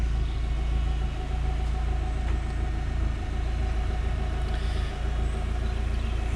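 A Rover K series engine car driving on a road, a steady low engine rumble and road noise continuing throughout at constant level, no talking.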